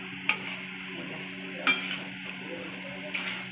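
Basanti pulao being stirred in a pan, with three light, brief scrapes and clinks spaced over a quiet, low background hum, no voices.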